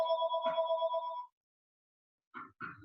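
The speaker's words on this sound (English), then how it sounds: "Sorry, my phone's going to ring" A telephone ringtone trills steadily for just over a second, then cuts off into silence before a couple of short, faint sounds near the end.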